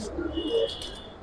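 Giribaz and colored pigeons in a Bangladeshi pigeon sale: a brief soft coo and faint chirps, close by, with a faint hiss and a murmur of low sound beneath.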